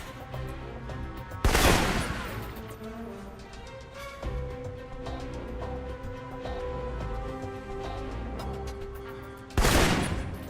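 Assault rifle fire in the Alpha Protocol video game: two loud, sharp bursts about eight seconds apart over a steady bed of game music and ambience.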